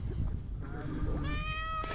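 A search cat meows during an avalanche rescue, a clear, close rising-and-falling cry of about a second and a half set against low background rumble.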